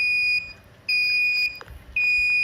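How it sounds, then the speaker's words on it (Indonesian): A water level monitoring buzzer sounds a steady, high-pitched electronic tone in three long beeps separated by short pauses, loud and close over faint background noise. "buzzer sudah berbunyi"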